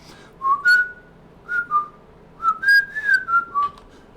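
A human voice imitates a little kid whistling, giving a few short rising and falling whistled notes in three quick phrases, close and clear with no talk over them.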